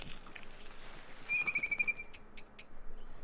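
A barn swallow in the video game What Remains of Edith Finch chirps outside a window, a brief high twittering run over a soft steady ambient bed, moderately near and alone without talk.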